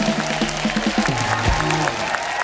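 Studio audience applause on The Kapil Sharma Show comedy set: a continuous wash of clapping from the crowd, with tonal sound running over it throughout.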